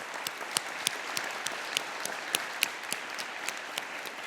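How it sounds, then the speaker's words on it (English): A graduation congregation audience applauds its new science and engineering graduates with steady clapping that holds throughout, sharp individual claps standing out near the front. "let's have a round of applause for our new graduates"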